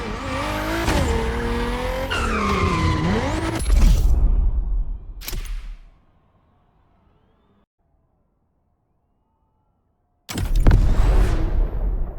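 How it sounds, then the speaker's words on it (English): An electric Audi Hoonitron gymkhana car in The Crew Motorfest shrieks through tire-squealing skids with whining motor sweeps, cuts to sudden silence, then bursts back into loud skidding. "You'll be driving the only electric Hoonigan car, which is probably the most powerful Gymkhana car, the Audi Hoonitron."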